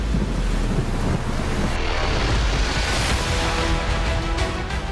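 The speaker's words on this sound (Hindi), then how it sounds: "सावधान, यह है तबाही का महातूफान।" Cyclone Tauktae over the Arabian Sea: loud, steady roaring wind buffets the microphone over crashing waves and surf, a continuous dense storm rush with no talking.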